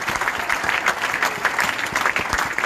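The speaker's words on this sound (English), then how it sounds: "so a massive round of applause for Nathan again." Steady applause from an audience at a football club's player of the season awards night honouring a nominated player, dense continuous clapping close by with no talking over it.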